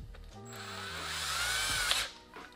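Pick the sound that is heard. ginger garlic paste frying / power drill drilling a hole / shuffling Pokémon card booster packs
power drill drilling a hole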